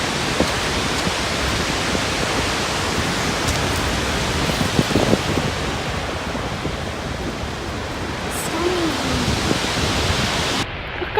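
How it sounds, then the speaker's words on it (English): An Icelandic waterfall roars up close, a loud, steady, unbroken rush of falling water that fills the whole stretch without pause. "Just getting a bit up and personal with the waterfall now."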